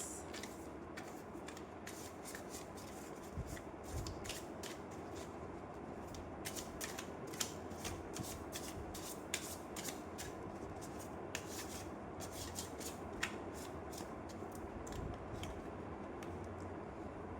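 Tarot cards shuffled continuously at close range, a fast rhythmic riffling and rubbing with soft repeated slaps, quiet and steady throughout with no speech.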